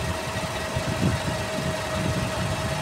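A Nissan Terrano D21 engine idles steadily with its clutch fan removed, a low rumbling throb and a faint constant hum, close and continuous with no voices.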